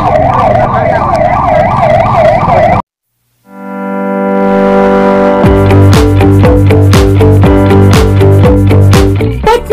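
An ambulance siren wails at the scene of a road accident on State Highway 55 near a petrol pump, where an SUV struck three motorbikes. It is loud and close, breaks off briefly, then resumes as a steady rising and falling tone.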